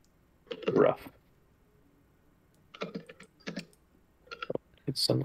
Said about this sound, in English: Suddenly hear his keyboard really well.